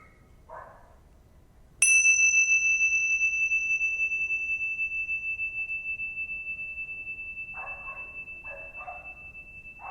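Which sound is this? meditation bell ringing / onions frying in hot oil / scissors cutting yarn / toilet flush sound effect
meditation bell ringing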